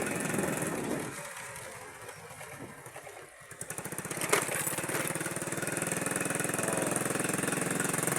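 A 45cc Kawasaki-engined grass cutter runs steadily at close range, its buzzing two-stroke drone dipping briefly near the middle before returning loud and constant.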